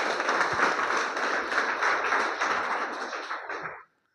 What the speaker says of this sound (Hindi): मैं चाहूँगा एक जोरदार ताली होनी चाहिए आयुर्वेदिक पद्धति के लिए।